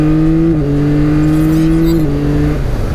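A 2021 Yamaha MT-09 SP motorcycle engine hums loudly and steadily while riding, with its pitch stepping down slightly twice as the revs change, heard up close from the rider's helmet.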